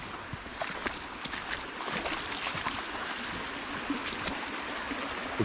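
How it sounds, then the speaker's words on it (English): Steady rushing of fast-moving stream water on a morning walk, a broad continuous wash with faint clicks and a high hiss, fairly even and close throughout. "That water can't be moving that fast."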